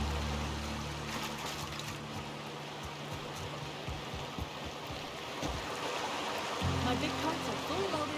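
Steady rushing waterfall in The Outer Worlds video game, a broad continuous wash of flowing water filling the scene at an even level, with a low hum underneath that shifts near the end.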